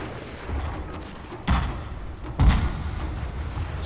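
Soldiers firing guns in the strategy video game Shogun 2: Fall of the Samurai, two distinct booming volleys about a second apart over a low continuous battle ambience.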